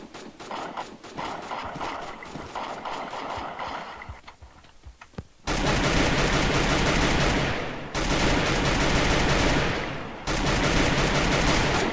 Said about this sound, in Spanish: Que alguien me dispara, que alguien me dispara.